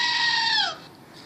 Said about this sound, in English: His reaction was summarized by the screaming of a goat